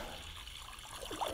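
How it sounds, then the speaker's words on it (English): Cold water pours into a kazan pot to make stock for ukha fish soup. The steady, hissing rush of the pour runs close up throughout. "Cold water in our kazan."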